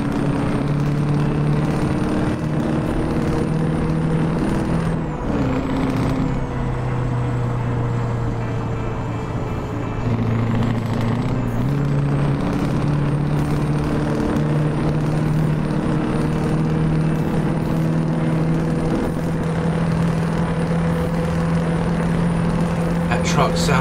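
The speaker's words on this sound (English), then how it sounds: "That truck sounds like a Rottweiler that's been kicked in the sack." A truck engine in the video game Euro Truck Simulator with the ProMods map mod drones loudly and steadily, its pitch stepping up and down as it shifts gears, with some talk over it.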